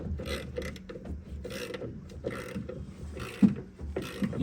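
Ratcheting wrench clicking on the front strut bolts of a 2014 Chevy Silverado, a run of quick, close mechanical ratchet clicks in bursts with a sharper knock near the end.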